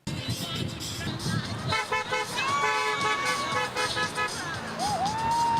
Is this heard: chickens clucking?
no